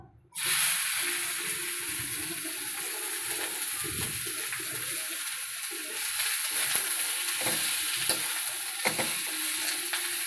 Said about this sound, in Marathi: कांदा बरोबर हे खडे मसाले टाकून द्या. ब्राऊन होईपर्यंत भाजून घ्यायचं याला मस्त कांदे